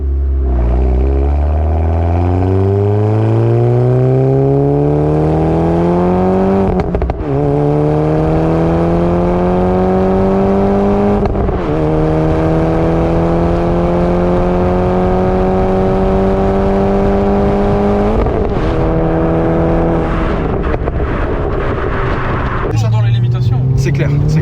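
A Volkswagen Golf 6 GTI stage 2 accelerates hard through several gears, its engine note rising and dropping at each shift for a loud, close, sustained run, with exhaust pops near the end.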